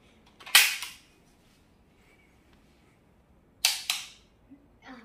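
A toy rubber band gun fires twice, each a sharp snapping crack followed by a short rattling release, about three seconds apart, with soft faint handling noises in between.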